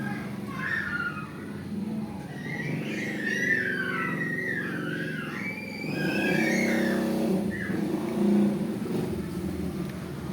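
Angkot minibuses and other traffic drive past on a main road in Bogor, a steady close engine rumble with a vehicle swelling louder as it goes by and whistling, chirping tones over the top.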